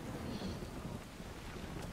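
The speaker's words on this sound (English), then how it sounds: "Rain is coming in, they have to retreat" Rain and thunder sound in a video game replay, a faint, steady hiss of rainfall with a low rumble beneath, heard alone with no voices.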